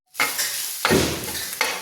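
Cauliflower and green chili stirred in a hot cooking pan, three scraping clanks of a spatula over a constant sizzle, close and alone.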